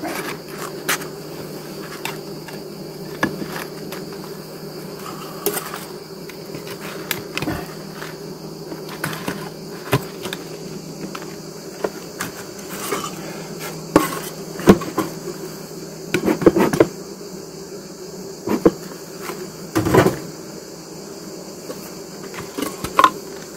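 Honeybees buzzing around an open hive during beekeeping work, a steady low hum throughout with frequent sharp knocks and clicks from hive frames being handled nearby.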